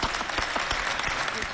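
Steady applause from an audience at a show, a brief, even wash of many hands clapping at moderate level.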